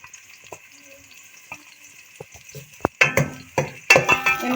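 Two medium onions, finely chopped, frying in a pan for dhaba-style chicken curry: faint sizzle with scattered clicks, then louder bursts of stirring and sizzling near the end.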